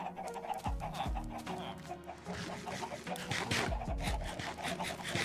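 Clucking chickens in the Minecraft game, a 1.20.1 modpack, pecking along in a steady low chatter over a busy layer of scraping, rubbing in-game noise, with a couple of deeper thumps near the start and middle.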